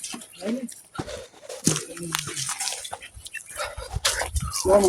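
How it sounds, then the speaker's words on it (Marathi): Irrigation water runs freely through a wheat field on a farm, a steady wet rushing and dripping under a man's close, continuous talk. "मोकळं पाणी सोडलेलं आहे ना."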